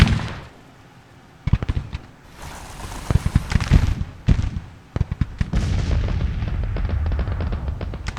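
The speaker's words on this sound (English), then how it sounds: "At least these guys are firing while they're falling back." Troops fire muskets and artillery in a Civil War strategy game, a loud ragged crackle of volleys and booms that comes in irregular bursts and then settles into a sustained rumble of fire.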